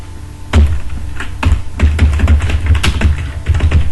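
Keys clatter on a computer keyboard in quick irregular bursts, with heavier thunks from the space or enter key, close and loud with no talking.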